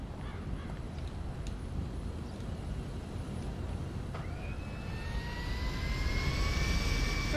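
A small propeller plane's engine idles and rises in GTA V, a steady mechanical roar that swells in pitch and loudness toward the end, with no speech.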